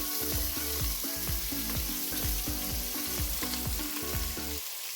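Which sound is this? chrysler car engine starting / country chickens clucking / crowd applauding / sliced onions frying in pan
sliced onions frying in pan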